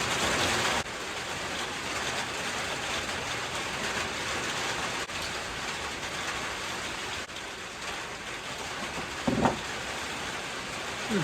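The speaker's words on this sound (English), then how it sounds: "Here comes the rain." Steady rain pours down on a rainy day, a dense continuous hiss of drops on surfaces close by, with one brief knock near the end.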